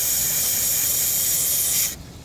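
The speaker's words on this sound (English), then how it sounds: "as I'm spraying this carburetor cleaner on here" Carburetor cleaner sprayed from an aerosol can onto a carburetor bowl, a loud, steady, close hiss that cuts off abruptly near the end.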